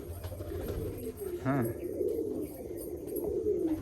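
A Mechua pigeon coos once in a short low burst, close by, with a faint voice and background noise around it.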